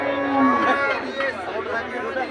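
A buffalo at a busy livestock market in Mansa gives a long, loud, drawn-out low moo up close, with a murmur of market noise around it.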